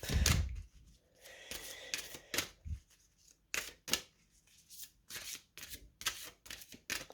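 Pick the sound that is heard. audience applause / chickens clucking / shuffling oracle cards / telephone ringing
shuffling oracle cards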